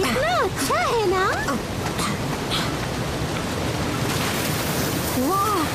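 A waterfall pours in a constant broad rushing hiss that fills the whole clip, close and loud, while high-pitched animated voices speak over it in places.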